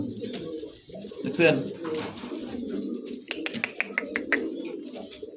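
Pigeons at a pigeon farm cooing in soft low throaty bursts, close by, mixed with flapping and small clicks while someone talks over them.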